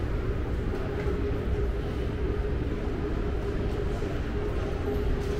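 Steady low rumble of a driverless train running in Bangkok, a continuous droning hum with a faint tonal whine, no talking.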